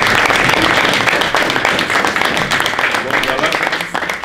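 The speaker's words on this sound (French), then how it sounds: "on applaudit." Audience applause at a university conference in Lausanne, a dense steady patter of clapping that runs loud and continuous throughout, with a few sharper individual claps poking out and tapering slightly at the end.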